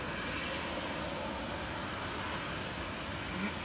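Air Canada airliner at Manchester Airport, its engines giving a steady, loud broadband roar that holds evenly throughout with no talk over it.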